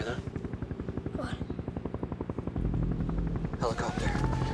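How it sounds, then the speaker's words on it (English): A helicopter's rapid rotor chop pulses steadily, fairly close and loud, on a frozen mountain, with people talking over it. "Helicopter."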